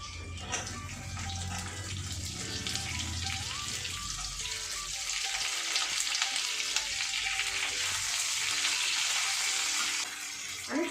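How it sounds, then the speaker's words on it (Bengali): Onions fry in a pan with already-fried garlic and ginger for chilli paneer, a loud, steady sizzle that swells as stirring goes on, then cuts off near the end. "দুটোই ভাজা হয়ে গেছে আমি এবার পেঁয়াজ দিয়ে দেবো"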